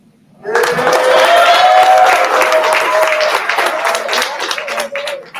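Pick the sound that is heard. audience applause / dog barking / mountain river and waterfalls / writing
audience applause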